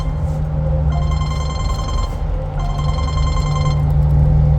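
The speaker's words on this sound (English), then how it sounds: "Hold on, I got a phone call." A telephone rings in two bursts of electronic bell trills under a steady low hum, with no talk.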